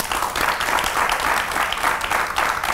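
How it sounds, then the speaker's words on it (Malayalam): Dense, steady applause from a studio audience at a Malayalam television talk show, sustained and loud throughout with no voices over it. "ഇതുപോലെ ഒരു കയ്യടി ഉണ്ടായിരുന്നു."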